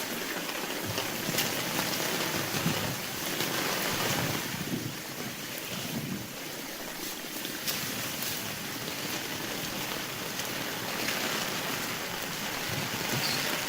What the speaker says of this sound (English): You can see how much flow we got coming through here, this French drain.